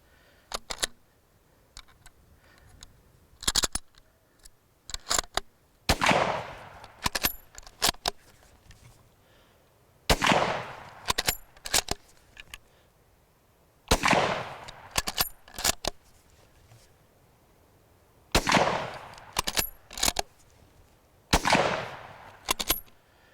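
Loud, sharp gunshots from a 1938 K98 bolt-action rifle, fired one at a time with gaps between them, mixed with metallic bolt clacks and rattles of cycling the action; no talking.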